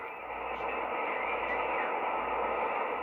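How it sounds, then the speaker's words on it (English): A Yaesu FT-101B HF transceiver on an attic dipole antenna hisses with a steady band of static and faint garbled transmission, fairly quiet and continuous. "Now we have activity on the radio behind us."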